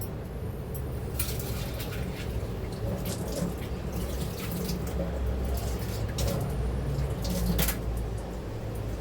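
Chana dal washed under running tap water in a home kitchen, a steady close splash with faint dripping and squishing as the lentils are rinsed.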